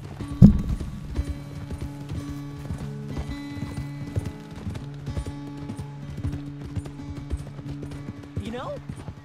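Steady clip-clop of horse hooves trotting at a brisk, even rhythm, with a short whinny near the end, from the video game Red Dead Redemption 2.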